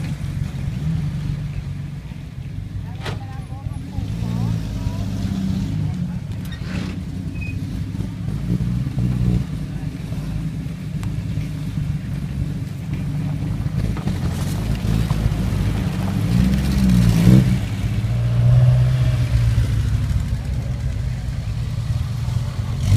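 Vintage cars arrive and drive at a Sunday gathering for aperitif and lunch at a farm, their engines making a steady low rumble with wind noise that swells gently toward the end.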